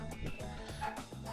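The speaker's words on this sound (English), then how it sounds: "It's just a dog starts to bark, and it's annoying." A dog barks and yips in short repeated bursts, fairly close and moderately loud, with a faint whimpering edge between barks, heard indoors during a card-game session.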